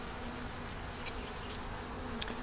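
Bees crawl over a foundationless hive frame in a four-frame nuc, a continuous soft buzzing hum heard up close with faint individual wingbeat flickers, no voices.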